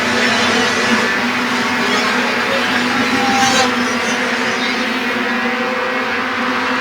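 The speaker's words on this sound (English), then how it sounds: "These Outlaw Midgets smaller race cars." Outlaw Midget race cars circle Flamboro Speedway in an evening feature race, their engines blending into a steady, loud droning roar that holds evenly throughout.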